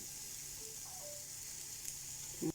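Green chillies fry in a pan as part of making Sylheti sidol shutki vorta, giving a steady, soft sizzle that holds throughout, with a brief stir or clatter of the pan near the end.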